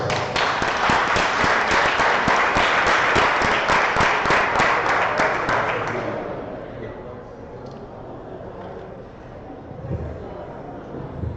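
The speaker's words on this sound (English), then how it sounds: "please give a round of applause for Asif" Audience applauding a presenter at a Pitch-In event at Seneca One, a strong burst of steady clapping for about six seconds that fades out into a quieter room.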